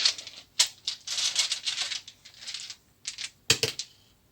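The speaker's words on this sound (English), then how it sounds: "So I'm also going to pull out 2 of the Divination dice." Divination dice pulled out and rolled, producing a loose run of clicking, rattling knocks with a couple of sharper clacks near the end, close and clear with no talking.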